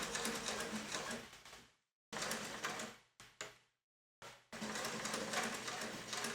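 A sewing machine topstitching through the thick layers of a denim jeans waistband runs in steady close bursts, stopping briefly between runs, with short pauses and a couple of quick restarts before a final sustained stretch of stitching.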